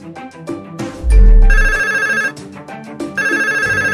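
An internal extension telephone rings in electronic bursts, each a repeated warbling tone, the first bursts joined by a deep low thump.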